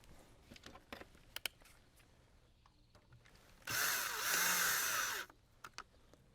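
A power driver runs in one steady whir lasting under two seconds, driving screws to mount a bracket for an outdoor light fixture on a brick wall, framed by faint clicks and handling noises, with no talking.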